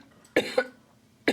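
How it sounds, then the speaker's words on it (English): Two quick close coughs in a row, then a third after a short pause, fairly soft and sharp against a quiet room with no talking. "I feel like coughing now."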